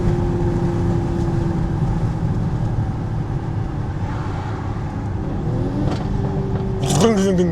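A Stage 2 tuned Audi SQ5 engine drones and rumbles close by with a low exhaust note, swelling near the end as speech briefly breaks in.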